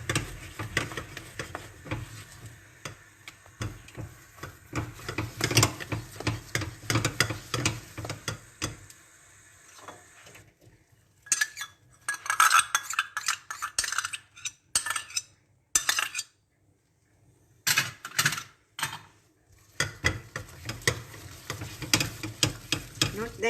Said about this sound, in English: Keep on mixing. Mixing till it becomes nice and fluffy.